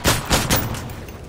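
Rapid video-game gunfire, a quick volley of three or four sharp shots over about a second, followed by a fading tail.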